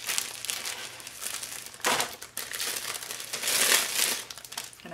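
A cellophane bag crinkles and rustles loudly up close in irregular bursts while a toilet paper snowman is bagged, with no talking.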